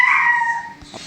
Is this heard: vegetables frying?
no